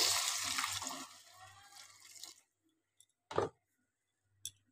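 Water poured into a cooking pan of spiced tangra fish with poppy seed paste, a steady splashing stream for about two seconds, then stopping, followed by a few faint clinks.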